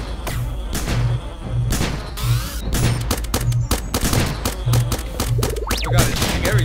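A turret in the 2D game Starbound shoots repeatedly, giving a loud, busy run of punchy gunshot bursts and thuds at a quick, fairly regular pace along with other game impacts.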